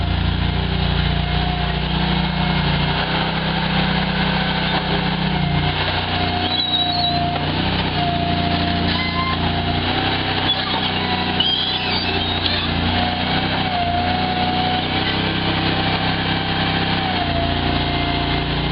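Dingo 950 compact utility loader working nonstop, a loud, close small-engine drone with shifting load and faint squeaks throughout.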